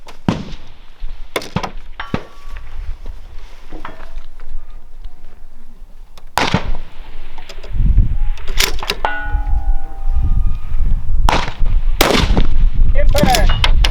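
Rifle fire during an NRL precision rifle match at Rock Lake Rifle Range, heard as several loud, sharp single shots spaced seconds apart and ringing out over an open range, with faint voices between.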